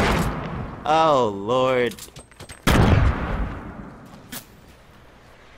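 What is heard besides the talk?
gunfire and explosions in the video game Fortnite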